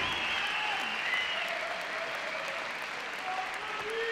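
Sustained applause from a squash tournament crowd at the Grasshopper Cup, a steady even roar of clapping at moderate distance with no voices standing out above it.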